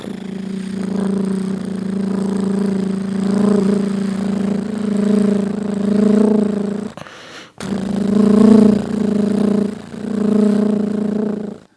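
A school student performing mimicry at a school program in Chelannur imitates a helicopter with a low, pulsing mechanical drone that swells and fades, pauses briefly, then resumes, close and fairly loud.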